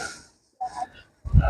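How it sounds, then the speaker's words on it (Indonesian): Heavy panting breaths from a climber on the steep path up Jabal Noor near Mecca, short gasping bursts close to the mic separated by brief pauses. "Napas sudah ngos-ngosan."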